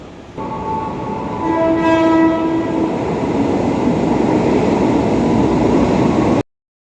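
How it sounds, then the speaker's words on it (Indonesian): Commuter train pulling into the platform at Jatake station, a steady loud roar of wheels and motors with a sustained horn-like tone in the first seconds, then running on until an abrupt end. "Dan kebetulan ini keretanya mau datang, ini dia."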